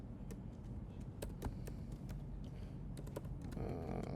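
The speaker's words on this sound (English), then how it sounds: "Let's just type mouse X" Keys tap at a quick, uneven pace on a computer keyboard, close and fairly faint, with a steady low room hum beneath.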